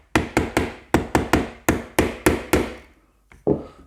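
A hammer taps on parts of an E&L airsoft AK during assembly, about eleven sharp, close, ringing knocks in a quick uneven rhythm, then a pause and one final strike.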